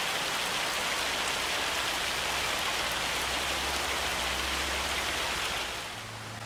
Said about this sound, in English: So I'll see you when this hailstorm's over